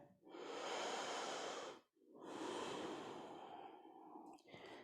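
Slow, deep breathing during a yoga session: two long, loud exhalations close to the mic, separated by a brief quiet pause, with a softer breath starting near the end.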